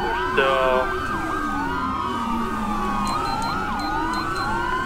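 Wailing video game ambulance sirens, loud and continuous, with overlapping rising and falling tones and engine noise underneath; a brief short chime sounds early on.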